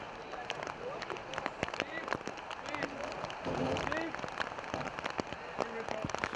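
Rain falling at an outdoor under-23 men's baseball game in Kitchener, a steady patter of drops across the whole stretch while someone talks over it.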